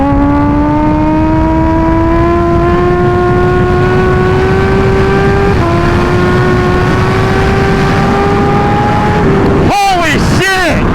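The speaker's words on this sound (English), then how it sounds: "I just set down my first 150 mile an hour wheelie on the H2." A Kawasaki Ninja H2 supercharged motorcycle engine screams loud and close during a high-speed wheelie, its pitch climbing steadily through the gears with short drops at each shift before a final sharp rev burst near the end.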